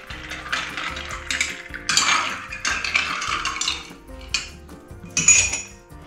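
A bar spoon stirs gin tonic ingredients in a glass, with close, repeated metallic clinks and swirling scrapes against the glass, plus a brighter ring near the end.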